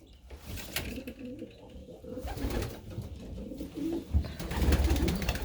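Pigeons coo repeatedly inside an aviary, soft throaty calls overlapping at close range, with some rustling and a louder burst near the end.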